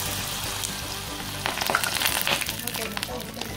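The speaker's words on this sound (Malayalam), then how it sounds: "ഓരോ പീസ് പീസായി എടുത്ത് നമുക്ക് ഓയിലിലേക്ക് ഇടാം" Pieces of egg dropped into hot oil and frying, a dense crackling sizzle that swells noticeably partway through as more pieces hit the pan, close and steady with no voices.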